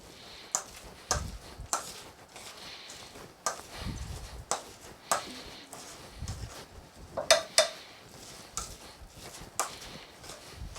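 Potato croquette mixture being stirred and mixed with salt and black pepper, giving irregular utensil taps and scraping clicks against a bowl, close and moderately loud, with no talking.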